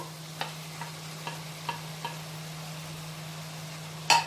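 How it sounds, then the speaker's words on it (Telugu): Chopped tomatoes go into a pan of bottle gourd curry and fry with a quiet, low sizzle, broken by a few soft, evenly spaced clicks and a sharper clatter at the very end. "ఇప్పుడు మనము కట్ చేసి పెట్టుకున్న ఈ టమాటో ముక్కల్ని వేసేసుకుందాము"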